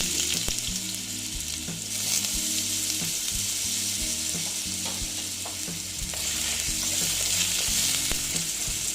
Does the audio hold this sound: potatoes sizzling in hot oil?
yes